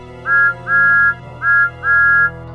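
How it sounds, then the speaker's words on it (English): Four loud, clear whistle blasts in a row from a cartoon steam locomotive at a mine, each a sustained tone with a slight upward swoop at the start, over a low steady rumble. "Thomas whistled as loudly as he could"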